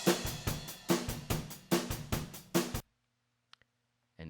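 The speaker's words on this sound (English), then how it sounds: "taking raw drum tracks that sound like this" Raw, unmixed acoustic drum kit tracks play a steady groove of punchy kick and snare hits for about three seconds, then stop abruptly, leaving near silence with a couple of faint ticks before a final hit.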